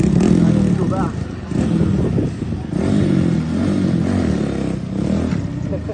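A stunt motorbike pulling a wheelie gives a steady, loud engine drone with slight revving swells across the whole stretch, with voices talking over it.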